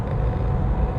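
A Volvo S60 picks up speed, producing a brief, steady low rumble of engine and road noise heard from inside the cabin.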